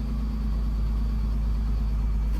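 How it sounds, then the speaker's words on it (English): A race truck engine idles in a steady low rumble, close and unbroken, with no voices over it. "Engine sounds fine."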